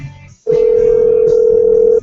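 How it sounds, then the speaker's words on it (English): During a morning radio show call, a single steady telephone tone sounds for about a second and a half, loud and clean, preceded by a brief gap of quiet. "We're going into overtime here to get Tommy Loop back on the phone"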